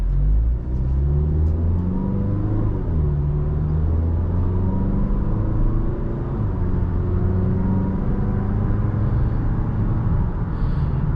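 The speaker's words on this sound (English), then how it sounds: "Yeah, nice smooth engine." A 2018 Mazda 3 Grand Touring engine accelerating on the road, smooth rising and shifting hum with steady drone, heard from inside the cabin, loud and continuous with no talk.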